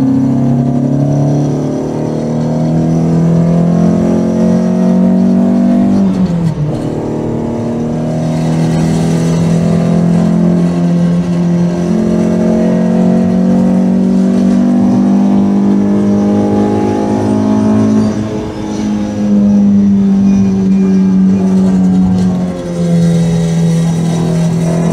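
A car driving a steady flying lap of the Nurburgring on a partly wet track, its engine loud and continuous, pitch climbing through the gears with brief dips at shifts.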